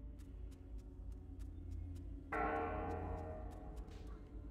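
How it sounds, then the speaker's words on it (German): Bell tower ringing in World of Warcraft Classic, with a bright, clanging bell strike entering halfway through over a constant ambient game background and faint regular ticking, no talk. "dieser Glockenturm, den habe ich glaube ich noch nie gehört"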